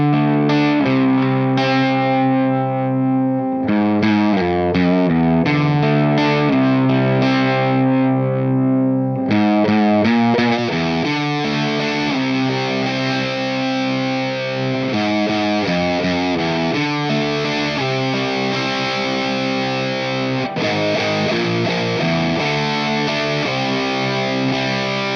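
Distorted electric guitar played through a Brainworx Suhr Custom 100 amp simulator plugin, running through its channels: loud, continuous riffing and chords with heavy gain and effects, alone without talk.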